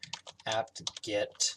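Keys clatter on a computer keyboard while a Linux command for installing sysbench is entered, a fast burst of clicks mixed with a voice speaking over them.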